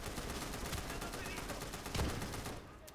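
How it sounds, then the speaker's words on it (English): A machine gun rattles in rapid continuous bursts during a video game firefight, dense and fairly near before cutting off near the end, under a speaking voice. "we get the crap machine gun"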